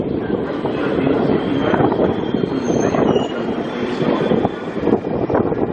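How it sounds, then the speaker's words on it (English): A tilt train from Rockhampton rolls into platform 10 at Brisbane. A rumbling, rattling rail noise with wheel clatter echoes loudly and steadily around the platform. "tilt train from Rockhampton to Brisbane arriving platform 10"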